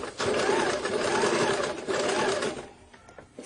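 A sewing machine runs steadily up close while stitching a baby shirt cuff, a continuous buzzing whir that slows and fades near the end.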